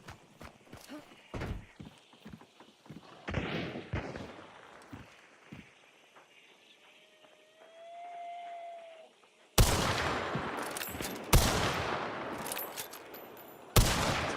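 Rapid volleys of video game gunfire crack loud and close in bursts, with quieter stretches of distant shots and footsteps between them during a solo-versus-trio match.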